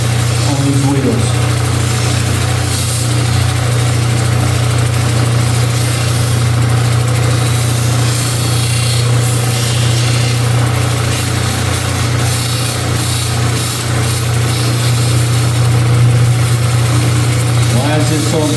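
A lapidary wheel grinding a cabochon stone: a loud, unbroken machine hum with a broad grinding hiss runs throughout, while someone talks over it.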